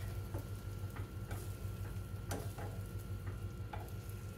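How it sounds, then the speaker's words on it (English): Eggs cook in a hot pan as they are pulled in and stirred, giving a faint, steady sizzle. Soft scraping and a few light ticks come through in an irregular rhythm, with no talk. "That's the way I like to cook my eggs."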